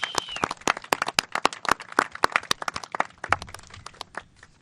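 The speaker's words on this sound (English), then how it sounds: "Please give all these people a round of applause." An outdoor Arbor Day ceremony crowd gives a burst of lively applause, with many close, crisp claps that taper off near the end.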